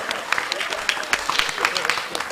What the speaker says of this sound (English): Clap him, clap him,